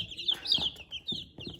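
Newly hatched chicks in a box give high, thin cheeps in quick repeated bursts, close and moderately loud, with no other sound competing.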